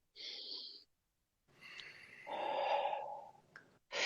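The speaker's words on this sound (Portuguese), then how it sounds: "Eu estava fazendo uma respiração" Someone demonstrates a breathing exercise: a short hissing breath, a pause, then a longer rising exhale with a hum-like tone, followed by another quick breath at the end, close and fairly quiet.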